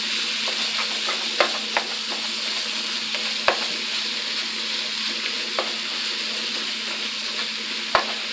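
Chorizo frying in a pan gives a steady close sizzle and crackle, with a few sharp clinks of a utensil stirring against the pan.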